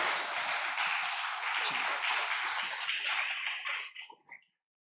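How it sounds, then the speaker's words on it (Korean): A church congregation applauds to celebrate a member before her testimony, steady dense clapping that tapers off into a few scattered claps and then silence. "우리 한번 승리한 걸 축하하면서 박수를 한번 맞이하겠습니다"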